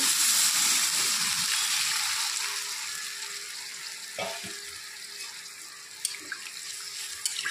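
Broth is poured into a pan of chicken curry, giving a steady liquid rush and gentle simmering fizz that tapers off, followed by a few soft clinks and stirs.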